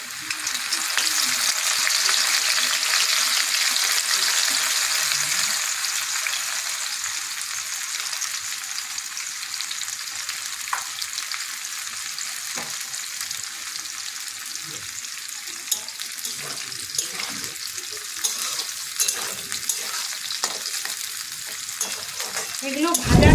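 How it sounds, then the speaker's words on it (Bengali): Flour-coated corn kernels sizzle and crackle steadily in hot oil for chilli corn, a loud continuous fry with occasional stirring clinks and no talking. "এবারে এটাকে আমি তেলে ভেজে নেব। এই দেখুন, তেলটা আমার গরম হয়ে গেছে। এরপর আমি এগুলোকে ভেজে নেব।"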